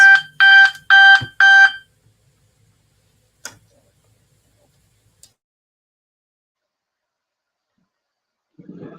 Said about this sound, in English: That sounded a little bit like a fire alarm